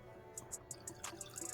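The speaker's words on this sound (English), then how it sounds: "I'm gonna pour it in this cup right here." Suppressor cleaner liquid dribbles into a cup in a series of small, quick drips and splashes, fairly close and quiet, with no one talking.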